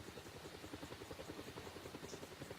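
Steady, faint rotor thump and engine drone of a helicopter in a flight simulator video game, a continuous rhythmic chop with no talk over it.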